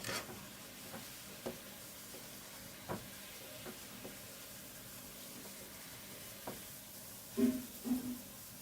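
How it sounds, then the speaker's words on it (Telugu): Pala munjalu, a Godavari-style sweet, frying in hot oil: a soft, steady sizzle with a few faint pops and ticks scattered through it, quiet and without talk. "అన్ని వైపులా తిప్పుకుంటూ మంచి కలర్ వచ్చేంత వరకు వీటిని ఫ్రై చేసేసుకోవాలి"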